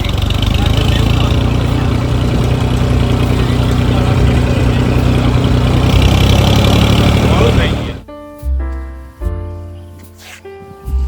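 A tractor engine idles steadily and loudly for about eight seconds before it cuts out, leaving only brief, scattered tonal sounds.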